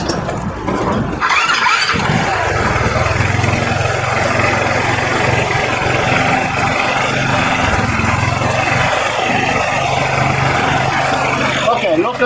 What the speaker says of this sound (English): And then you can turn the scooter on.